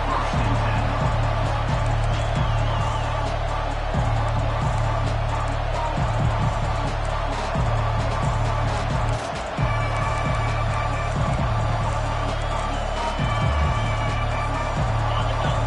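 Stadium crowd at a college football game in Texas, a continuous loud roar of cheering and noise that swells and dips, with an announcer talking over it.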